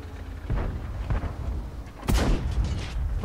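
A T-34-1 tank cannon fires in the game World of Tanks, one sharp, heavy boom about two seconds in, rising over a low, steady engine-like rumble.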